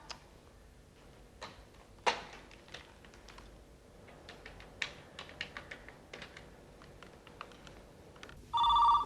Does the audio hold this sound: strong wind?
no